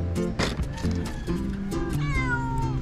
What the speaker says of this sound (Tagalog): Sige, mag-meow ka muna.